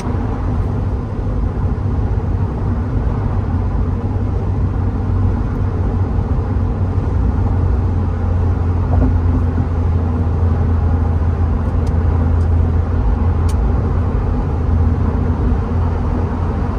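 Steady engine rumble from a 1992 Porsche 968 Cabriolet on the road after a downshift, a continuous low drone with road noise and no talking.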